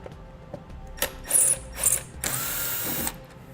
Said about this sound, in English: The only ones we need to remove are the 2 inner Phillips screws.